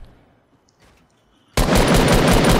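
Gunfire in the video game Fortnite: after a quiet stretch a loud, dense burst of rapid automatic shots erupts and continues without pause to the end.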